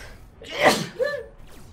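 A single sharp sneeze bursts out near the mic during live commentary on a Planetary Annihilation match, followed by a brief breathy after-sound.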